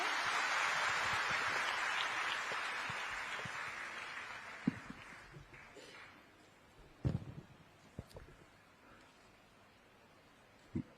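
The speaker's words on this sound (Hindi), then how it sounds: "बहुत तालियां एक बार मान्यवर के लिए।" Audience applause for Chief Minister Vishnu Deo Sai at an International Women's Day 2024 event in Chhattisgarh, a broad wash of clapping that fades over the first few seconds and leaves a quieter room with a few scattered knocks.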